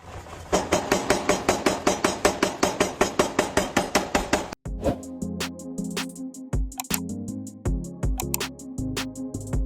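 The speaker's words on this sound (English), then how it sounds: "Traditional forging meets pure precision, turning raw steel into perfect working edges." Rapid, evenly spaced hammer blows forging raw steel ring out loud and metallic, followed by slower, heavier strikes with resonant clangs.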